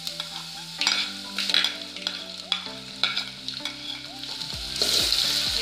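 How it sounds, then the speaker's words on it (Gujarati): Garlic frying in a pan while being stirred for a stuffed eggplant dish: a loud, continuous sizzle with repeated spatula scrapes and clinks against the metal, close-up and without talking. "આપણે લસણ નાખીશું"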